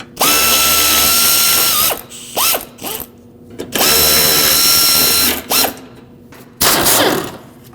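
On a 2013-2019 Ford Escape, 13mm and 10mm bolts come off the upper radiator support with a power ratchet, making loud, close bursts of whirring and rattling separated by short pauses.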